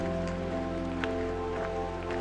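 Rain patters on an umbrella during a mountain hike on the Dondokozawa route to Hōō Sanzan in the Southern Alps: steady soft pattering with a few sharper drop taps, over a constant low hum.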